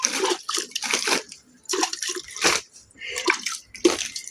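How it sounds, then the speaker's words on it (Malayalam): Water is sprinkled by hand over a heap of fresh cow dung and dry fallen leaves being made into compost, in close, irregular splashing bursts with short pauses between them. "വെള്ളം കൂടെ തളിച്ചു കൊടുക്കാം"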